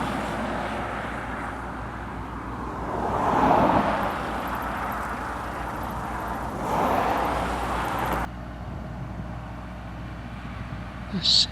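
A Scania Topline truck rolls past on a Lincolnshire A-road, a broad engine and tyre roar that swells and fades, then drops off abruptly while a person talks over the traffic.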